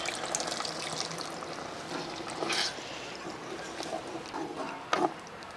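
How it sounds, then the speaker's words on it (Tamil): Tamarind water pours into a clay pot of simmering brinjal curry, giving a soft liquid splash and trickle with a few sharper spatters, close and moderately quiet, with no talking. "நம்ம புளி சேர்த்துக்கலாம்."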